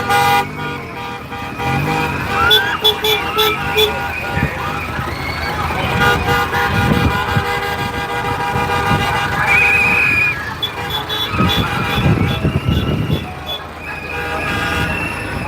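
Vintage trucks rolling past in a rural agricultural parade, with horn toots, engine rumble and other sustained tonal sounds heard throughout amid steady outdoor background noise.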